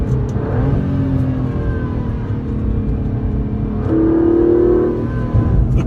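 An Aston Martin DB11 accelerates hard, its engine rising into a loud, sustained roar with a second surge of revs near the end, heard close up from inside the car without any talk.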